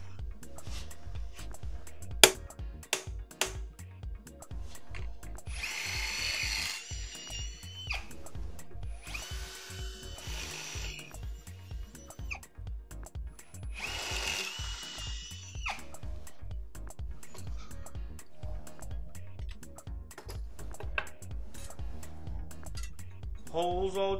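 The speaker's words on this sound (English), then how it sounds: "Holes all drilled out" Power drill boring holes in parts for a homemade camera slider dolly, repeated bursts of high whining drilling between pauses, with a low rhythmic clatter running throughout, close and moderately loud.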